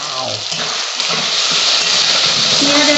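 Onion and tomato gravy for an egg posto dish simmering in a pan, a loud continuous close hiss and bubbling, with a faint voice briefly audible underneath.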